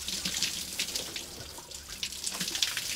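Water pours steadily from a hose pipe outdoors, a close, continuous hissing splash with slight fluctuations and no voices.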